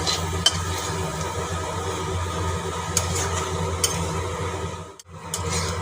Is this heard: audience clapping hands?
no